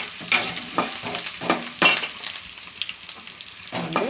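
Onions and green chillies fry in a pan for chicken curry, a bright close sizzle with repeated scraping strokes of stirring in an uneven rhythm, no voices over it.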